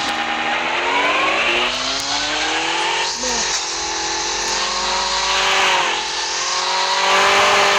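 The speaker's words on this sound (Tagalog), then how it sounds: "Motorcycle." Motorcycle engine revving in the Call of Duty video game, a loud, continuous rising and falling whine with dips in pitch, accompanied by talk and game sounds.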